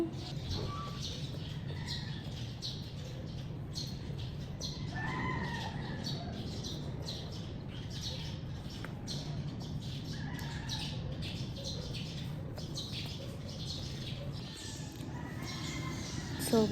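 Birds squawk repeatedly over a steady low background hum outside a barangay hall, their calls coming in short bursts at a moderate distance.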